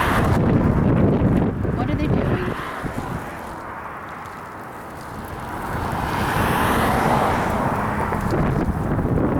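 Cars drive past on a roadside, whooshing by as broad swells of road noise with some wind buffeting, fading in the middle and rising again as another vehicle approaches.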